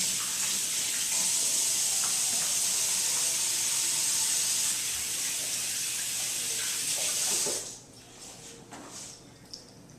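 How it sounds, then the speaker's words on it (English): Kitchen tap running steadily while hands are washed, a loud hissing stream for several seconds before it shuts off, leaving quieter room sounds. "Just going to wash my hands."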